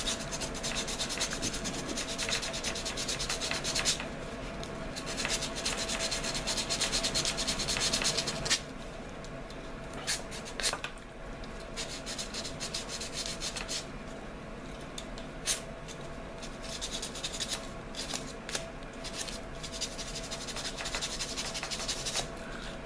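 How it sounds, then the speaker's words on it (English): Folded sandpaper rubs steadily inside the notch of an arrow shaft, a continuous close scratchy rasp that carries on with only brief dips for over twenty seconds. "So I can continue to sand and refine this up."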